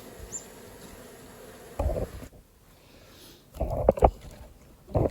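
Honey bees at a small, critically weak hive, a low steady buzz with a few louder close rustles and bumps breaking in, no speech.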